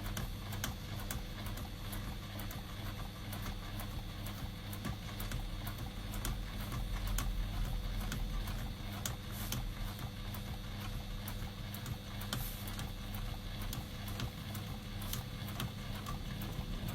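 A sewing machine stitches steadily through fabric on a tablet stand project, a quiet, rapid ticking mechanical patter running evenly throughout at low volume.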